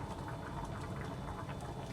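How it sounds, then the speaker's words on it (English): Rice boiling in a pot at a steady boil, dense continuous burbling and popping with no voices. "Once the rice is boiling like this"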